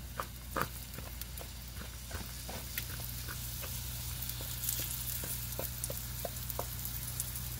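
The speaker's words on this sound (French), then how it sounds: "Pour savoir si la poêle est assez chaude, on vient mettre un peu de notre pâte. Puis comme ça commence à frire" Tortilla batter frying in a hot pan gives a soft, steady sizzle, with faint scattered pops and small taps on top, close but quiet.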